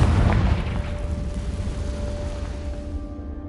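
A Confringo explosion spell cast in Hogwarts Legacy bursts in a loud, deep boom at the start, then the rumbling tail slowly fades away over a few seconds, with no talking.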